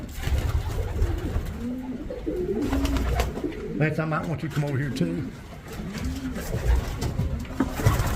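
Racing pigeons, many of them yearlings, coo steadily inside a loft, repeated soft rolling calls layered over each other as someone speaks.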